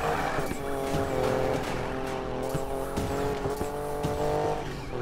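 A Ford Raptor races in Need for Speed Payback, its engine droning steadily throughout with tires squealing and skidding over a continuous roar, game audio with no talk.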